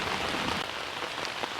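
Steady rain falls outdoors in the woods, a dense continuous hiss of drops on surfaces with no break, fairly loud and close, with no voices over it.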